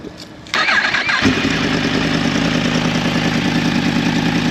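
A 2020 Yamaha MT-10 motorcycle is started up close: a brief starter whir, then the engine catches with a sudden loud bark and settles into a steady, throbbing idle.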